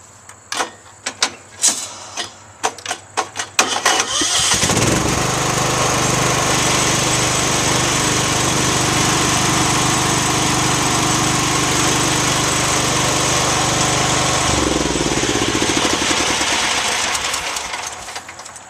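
A John Deere riding lawn tractor with a faulty transmission starts after a few clanks, then its small engine runs at a loud, steady drone for about ten seconds before idling down and winding off.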